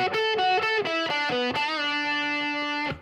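Distorted electric guitar playing a pentatonic lick: a quick run of picked notes and double stops, then a bent note held in a long, sustained ring, loud with no voices.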